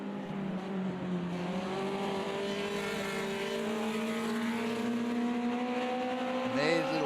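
Formula Junior race cars at Monza howl past at high revs, engine notes layered and sweeping, with a brief shift in pitch near the end as a commentator talks over the steady racing noise.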